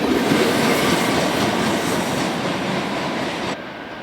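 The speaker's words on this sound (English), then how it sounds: "Westbound Norfolk Southern Local B10 is next." A westbound Norfolk Southern local freight, B10, rolls by close and loud with continuous wheel clatter and rumble, faint squeal in the mix, and the noise dropping away abruptly near the end.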